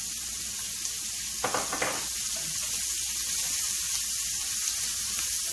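Green beans frying in a pan with garlic and pepper make a constant, close sizzle that continues throughout, with a few brief louder crackles and clatters of stirring near the start.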